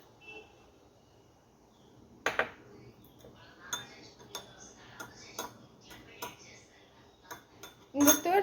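A spoon stirs wheat flour in a bowl, giving soft scraping and several sharp clinks against the bowl, scattered across a quiet background with a louder clatter at the end.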